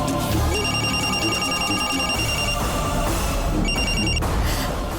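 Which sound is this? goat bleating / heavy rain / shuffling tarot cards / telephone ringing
telephone ringing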